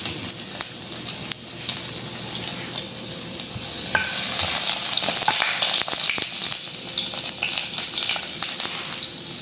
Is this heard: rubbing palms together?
no